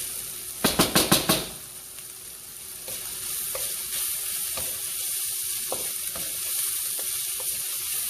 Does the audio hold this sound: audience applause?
no